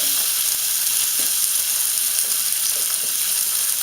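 Rump steak frying in a hot pan gives a loud, steady, close-up sizzle, a bright continuous hiss with faint crackles and pops and no talking over it.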